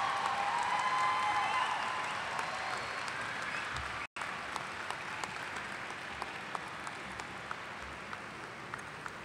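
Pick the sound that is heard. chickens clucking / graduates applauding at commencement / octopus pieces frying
graduates applauding at commencement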